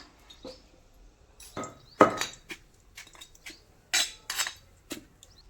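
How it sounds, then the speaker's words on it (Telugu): Coriander chutney with salt being pounded by hand in a home kitchen, irregular knocks and clinks of pestle and utensils, close and sharp, with no talking. "ఉప్పు వేసి దంచుకుంటున్నానండి"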